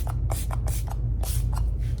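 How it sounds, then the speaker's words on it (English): A handheld bottle of makeup setting spray fires several short, crisp pumps close by, each a bright hissing burst, with a few quieter taps between them. "So I'm going to go ahead and reset with the setting spray."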